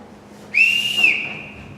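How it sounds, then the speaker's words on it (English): A single sharp whistle blast, clear and sustained for about half a second, then fading, with no talk over it. "I forgot to return this whistle, Captain."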